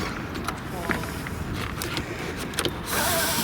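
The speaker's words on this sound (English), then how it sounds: "Let me lower the other screen so it matches." A small electric motor lowers the rear window screen of a 2005 Maserati Quattroporte Executive GT, a steady faint whir heard close up inside the car under light background noise and a few soft clicks.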